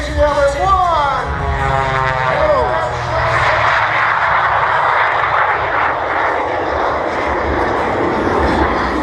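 Aircraft engine at the California Capitol Air Show, a loud close propeller-driven roar with a rising and falling whine early on, then a sustained engine drone as the plane passes, with a voice speaking over it.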